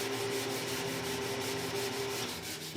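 Steady back-and-forth rubbing of sandpaper by hand across the body of a DIY Les Paul guitar kit, a continuous close scratchy hiss with a soft rhythmic pulse and no talking.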